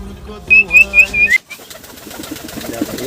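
A pigeon's warbling coo-like whistles repeat several times up close, followed by a soft fluttery rustle.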